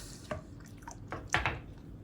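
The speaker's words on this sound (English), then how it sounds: "add just a little bit more water, and throw hot dog number 2 in here" Water pours and drips in a few short splashes into a plastic microwave pasta boat holding a hot dog, close and fairly quiet.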